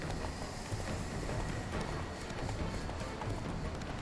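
Horse galloping in The Witcher 3, a steady, dense run of hoofbeats under continuous wind-like rushing noise, loud and close throughout, with no speech.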